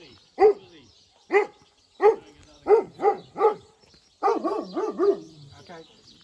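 A dog on a farm in the Wairarapa barks repeatedly and close by, first in single spaced barks and then in a quicker run of yaps, with a person's voice faintly in the background.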